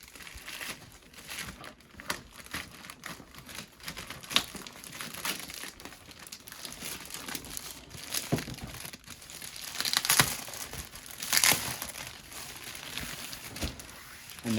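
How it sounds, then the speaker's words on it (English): Plastic packaging around a Hot Toys action figure is cut and pulled open, giving quiet intermittent crinkling, crackling and tearing close by, with a couple of sharper snips. "let's go ahead and cut this plastic"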